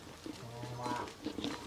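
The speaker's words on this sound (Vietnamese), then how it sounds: "Nhà ông có trâu bò nhiều đấy." Cattle on a rural Vietnamese farm give one drawn-out low moo lasting about a second, fairly close, with faint rustling and background noise around it.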